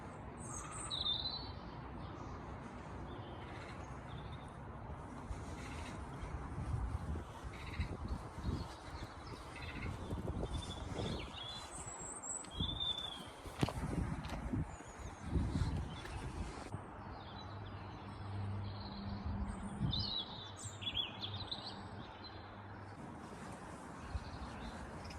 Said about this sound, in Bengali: পাখি ডাকছে, কত সুন্দর আওয়াজটা শুনতে লাগছে।